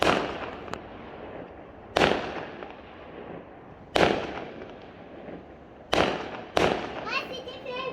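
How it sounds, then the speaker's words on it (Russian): Fireworks bursting on Bonfire night, four or five sharp loud bangs at roughly two-second intervals, each trailing into crackle and echo, with a faint whistle near the end and quiet background voices. "Мать, иди фейерверки смотреть."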